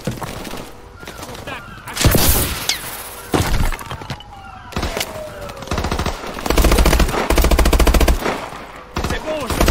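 Heavy gunfire in Call of Duty Advanced Warfare crackles in repeated loud bursts, mixed with breaking and impact sounds and sustained automatic fire, close and intense throughout.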